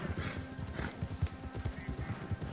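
Rapid clip-clop of horse hooves from a video game, a steady galloping rhythm with faint voices underneath.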